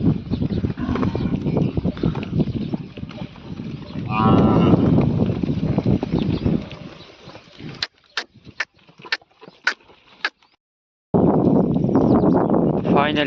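Village cows give a drawn-out, resonant moo amid steady outdoor rumble and voices, followed by a run of sharp clicks and knocks, a short silence, then more outdoor noise.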